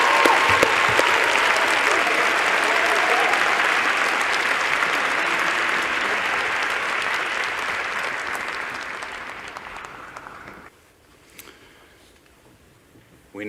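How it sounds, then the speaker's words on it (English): An audience applauds a graduating class at an Imperial College graduation ceremony, sustained dense clapping that fades out after about ten seconds to near quiet. "Please join me in a round of applause for the graduating class."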